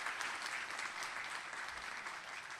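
Steady applause from an audience at a high school scholarship awards ceremony, dense even clapping held throughout at a fairly low, distant level with no voices over it.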